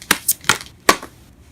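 Tarot cards handled and shuffled, three or four short papery riffles and slaps in a brief burst up close, fairly loud, with no talking.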